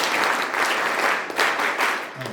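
Children applauding together in a group setting at a Bharat Seva Dal session in Ilkal, steady dense clapping throughout at close range.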